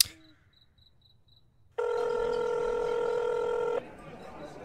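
A phone rings in the horror video game South of Hell on a lonely Halloween night: a short series of quiet electronic beeps, then a loud steady buzzing ring that holds for about two seconds before cutting off.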